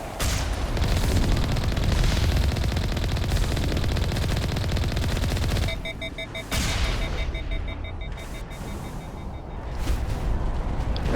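Sustained automatic weapon fire roars continuously in a Mass Effect battle, a dense loud rattle that briefly dips and then resumes with steady bursts and electronic tones layered over it.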